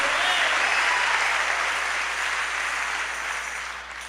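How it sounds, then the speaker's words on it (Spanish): Sustained applause from a church congregation, a thick, even roar of clapping that slowly fades toward the end, with no voices above it. "Démosle palmas al Señor."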